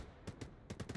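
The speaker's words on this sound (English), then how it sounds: "That was an RPG." Gunfire in the video game Arma Reforger, where an RPG is fired: a few sharp, loud bursts in two clusters, a pair and then a rapid string of three or four, over a low rumbling background.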